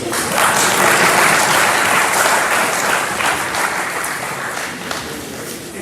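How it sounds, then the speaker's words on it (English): A university audience claps for award-winning students, a dense, loud wash of applause that holds steady for several seconds and then tapers slightly near the end. "Clap for them, clap for them."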